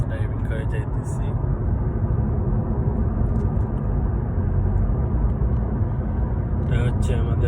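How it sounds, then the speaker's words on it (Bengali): A car driving along a road on the way to a doctor's office in the USA, heard from inside as a steady, loud low rumble of engine and road noise that runs throughout. "আমি ড্রাইভিং করে যাইতেছি।"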